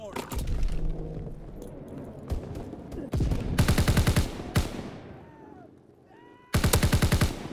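Rapid automatic fire from a gun in a multiplayer shooter game, loud repeated bursts separated by quieter stretches of game sound.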